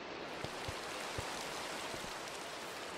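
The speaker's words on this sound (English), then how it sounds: "Oh, it's raining!" Rain falling in the video game Minecraft, a steady soft hiss of rainfall with a few faint low thumps, continuous and moderately quiet.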